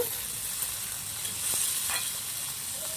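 Malabar spinach seeds and potato being turned in a pan for a curry, giving a steady soft sizzle with a few faint scraping strokes throughout.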